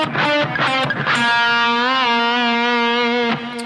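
Distorted electric guitar plays a solo phrase, with a few quick picked notes and a bend leading into a long sustained, wavering note, loud and close with no talking.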